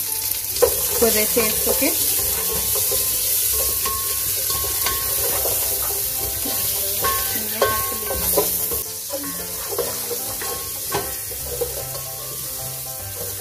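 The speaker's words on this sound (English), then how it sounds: "I'll also be adding some blueband or butter, just like a tablespoon" Butter, about a tablespoon, sizzles steadily in a pan while making butternut squash soup, a constant frying hiss with occasional stirring scrapes and clinks, close and fairly loud, with a brief spoken phrase over it.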